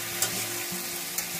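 Potatoes frying in a pan with ginger paste, tomato and chilli powder give a steady close sizzle, with soft stirring scrapes and two brief clicks of the spoon against the pan.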